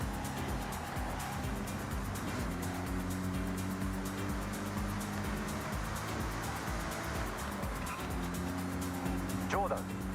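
Mazda MX-5 driven in a racing video game, its steady engine drone and road noise running continuously, with a brief higher tonal sweep near the end.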